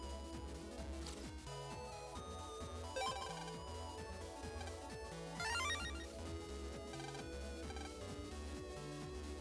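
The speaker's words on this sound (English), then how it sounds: "Unexpected phone ring." A sudden phone ring in the Mega Man Battle Network 3 game sounds as chiming electronic ringtone notes over steady, busy game music, with brief bright bursts standing out amid the continuous tune.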